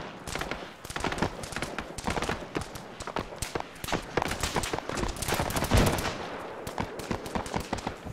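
Arma 3 combat on Tanoa brings rapid bursts of gunfire and scattered shots, fairly quiet and distant, with an irregular rattling rhythm that suggests incoming fire from afar.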